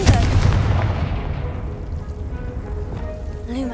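A Confringo blasting spell goes off in the Hogwarts Legacy game: a loud, rumbling explosive burst at the start that rolls into a long, fading crackling tail, with a faint tonal magical shimmer rising near the end.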